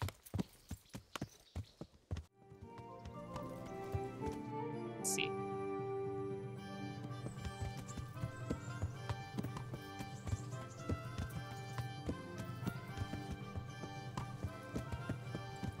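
Horse hooves clip-clop at a walk in the medieval game Kingdom Come: Deliverance, a steady rhythmic tapping under layered music with a brief spoken word.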